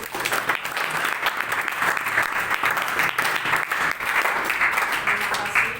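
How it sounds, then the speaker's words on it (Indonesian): An audience applauds after a new student senate (SEMA) chair is appointed at a formal ceremony, dense steady clapping from a sizeable crowd running unbroken and fairly loud throughout. "Kita tepuk tangan dulu."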